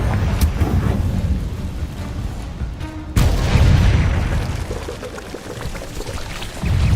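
A blasting-curse explosion in Hogwarts Legacy booms out with a sudden loud burst midway, followed by a rumbling roar layered over a dense, noisy game soundscape.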